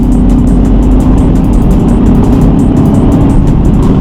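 A Ford Mustang's engine pulls hard under throttle on a test drive, a loud, steady, close mechanical drone that holds at full volume for the whole stretch with no talk over it.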